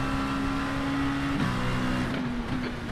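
Race car engine in the iRacing IMSA series sim, a steady droning engine note that holds, dips and shifts pitch slightly as the car runs, moderately loud and alone.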